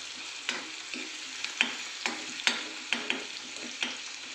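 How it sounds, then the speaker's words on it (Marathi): Mixed vegetables for pulao are sautéed over a low flame, with a soft constant sizzle broken by regular scraping stirs of a spoon in the pan. "त्याच्यानंतर मंद आचेवर चांगले त्याला परतून घ्यायचे"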